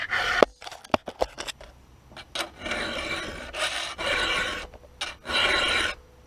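A small chainsaw chain filed by hand, one-handed, in repeated rasping strokes: short scrapes at first, then longer, steadier strokes with brief pauses between, close and fairly quiet, with no talking.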